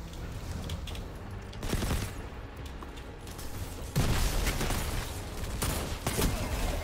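Gunfire in a shooter video game during a rumble match, with a service revolver among the weapons: dense, overlapping bursts of shots over steady game noise, growing louder and heavier midway through.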